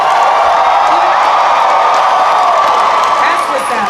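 A packed Comic-Con Hall H audience roars with sustained cheering, whoops and applause, loud and dense throughout with no break.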